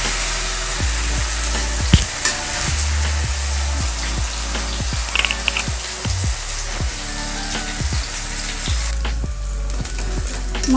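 Ginger garlic paste fries with softened onions in a pan, a loud, steady sizzle broken by regular spoon scrapes and taps against the pan.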